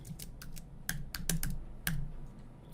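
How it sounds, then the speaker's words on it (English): Keys tapped on a computer keyboard while entering spreadsheet data in Excel on a Mac, a run of light clicks with a few sharper, louder keystrokes standing out, close and alone. "going to type in cost of goods sold, and again, hit the enter key to move down to cell B4"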